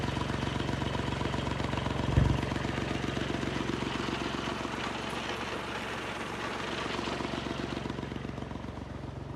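A tractor engine runs steadily at high revs on a marigold farm, a loud continuous drone with a brief knock near the start and no break throughout.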